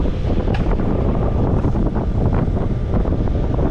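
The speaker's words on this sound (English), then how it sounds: "Hear that compressor?" Air conditioner compressor running on a service call, a constant rough broadband roar close to the microphone, with no break over a few seconds.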